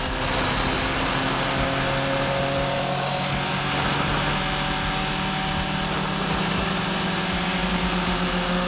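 A Kawasaki ZX10 motorcycle ridden at night away from the highway, its engine droning steadily and loudly with a constant low rumble and road and wind noise, no voices.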